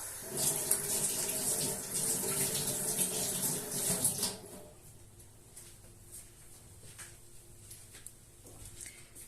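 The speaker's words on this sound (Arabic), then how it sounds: "نغسل ايدي باش ندير السكر." Tap water runs in a steady loud splash while hands are washed in a home kitchen, then shuts off about halfway, leaving soft drips and handling sounds.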